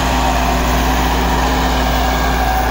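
A Massey Ferguson 385 tractor engine drones steadily and loudly while pulling an 11-tine tiller through a field, a constant heavy low rumble with no pauses and no voices.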